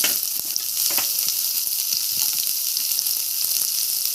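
Onion sizzling in hot oil with mustard seeds and curry leaves, a steady dense crackle with occasional sharper pops and stirring clicks, close and continuous without any talk.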